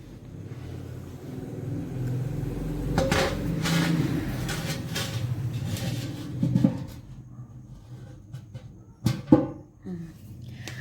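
A metal tasla basin is set down over a halwa and lamp offering on the floor, several dull metallic knocks and scrapes close by over low room rumble, with a heavier clank near the end.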